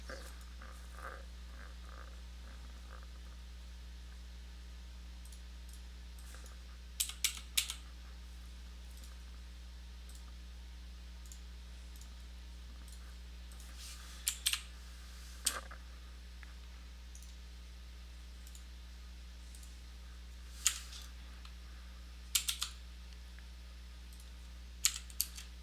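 Keys clatter on a computer keyboard while a server setup is entered, appearing as scattered short bursts of close clicks over a steady low electrical hum, with long quiet gaps between the bursts and no speech.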